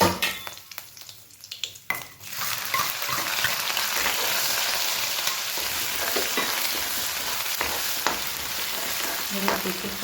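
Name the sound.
green chillies and curry leaves frying in oil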